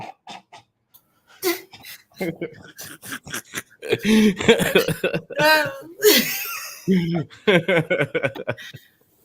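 Someone coughs and clears their throat in rough bursts while smoking, mixed with talking and a bit of laughter, close to the microphone.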